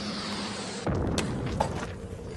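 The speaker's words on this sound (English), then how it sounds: "It didn't sound like a shell. More like a couple of rockets." Two muffled booms go off in quick succession, like rockets exploding at a distance, each leaving a short rumbling tail.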